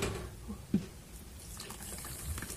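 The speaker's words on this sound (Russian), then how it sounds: "Из термоса сразу наливаю." Water pours from a thermos into a container in the kitchen while making a berry cake: a soft, steady trickle with one brief clink near the start, faint and close, with no talking.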